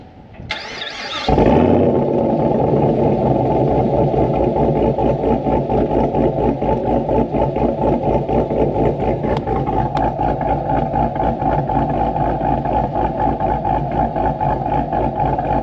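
A supercharged Chevrolet Camaro SS engine cranks and starts, then settles into a loud, close, steady idle with a deep, lumpy rumble that holds to the end.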